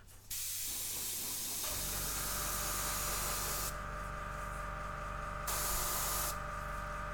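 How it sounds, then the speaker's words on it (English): An airbrush sprays paint onto a silicone test piece, a loud, continuous close hiss that starts abruptly and shifts slightly in tone as the spray stops and restarts, over a steady low compressor hum. "Maybe just a little bit more airbrushing up here."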